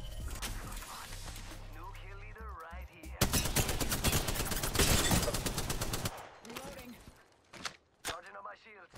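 Wingman handgun hip fire in a video game: a dense, loud burst of rapid shots and impact effects lasting about three seconds, with game voices and sounds before and after.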